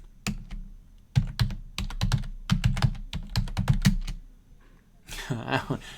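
Computer keyboard keys clack in quick irregular bursts as a password is typed during an SSH session, close and distinct, followed by a short stretch of muffled talk near the end.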